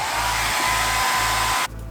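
A hair dryer blows with a loud, constant whooshing roar nearby, then cuts off abruptly near the end, leaving a quieter hum.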